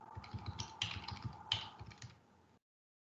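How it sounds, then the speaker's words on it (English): Card details are typed on a computer keyboard in a quick run of close, crisp keystrokes with a couple of sharper key hits, lasting about two and a half seconds before stopping. "the customer is going to go ahead and enter their card information"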